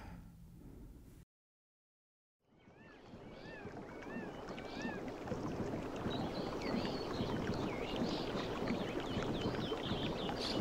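A rowboat glides across water on an evening ride, with a steady wash of water and wind noise and a few faint bird chirps, following a brief moment of silence.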